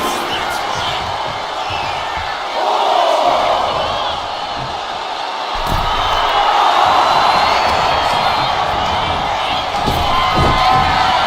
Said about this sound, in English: And now she's feeling the energy from the crowd.